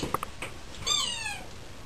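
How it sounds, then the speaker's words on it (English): A pet cat gives a single clear, close meow, preceded by a few faint clicks and soft sounds. "This is my cat."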